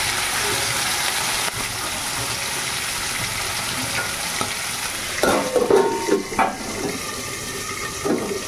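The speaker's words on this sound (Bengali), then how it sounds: "মাছগুলো ভাজা হয়ে গেছে, তুলে নিচ্ছি" Bhetki fish fry in a pan with a continuous sizzle, joined later by a few scraping stirs and clinks of a utensil against the pan, close and fairly loud, no talking.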